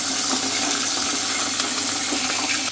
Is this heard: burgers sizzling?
yes